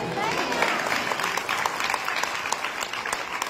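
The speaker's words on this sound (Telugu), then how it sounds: "clap hands for Jesus" A church congregation claps hands together in dense, lively applause, with voices talking and calling out over it.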